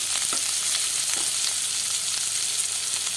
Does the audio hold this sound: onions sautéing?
yes